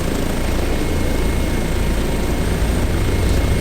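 An Airbus H145 helicopter in Microsoft Flight Simulator hovers with a steady, loud, broadband rotor and turbine roar that holds constant throughout without any talking.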